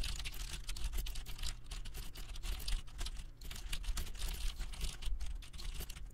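Fast continuous typing on a computer keyboard while writing C code, with dense, quick key clicks running throughout at a steady moderate level and no speech.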